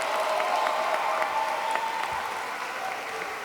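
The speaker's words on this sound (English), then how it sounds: "So give them a round of applause and our students." An audience in a room applauds warmly at a film and television academy showcase, dense steady clapping that fades slightly toward the end.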